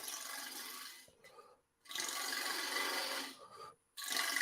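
A gouge cuts a wood hollow form turning on a lathe at about 1200 RPM, with close, loud rasping scrapes in two long passes broken by brief pauses and a short quieter cut between them.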